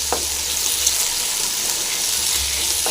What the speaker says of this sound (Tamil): எண்ணெய் வந்து சூடாகிடுச்சு எல்லாத்தையும் ஒன்றா கொட்டிடலாங்க ஒன்றா கொட்டிட்டு நல்லா ஃப்ரை பண்ண நல்லா வதக்கணும் இதை